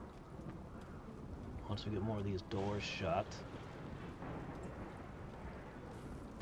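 Steady rain with rumbling thunder fills a hot, stormy day in the video game RimWorld Odyssey, a continuous wash of weather sound running beneath someone talking throughout.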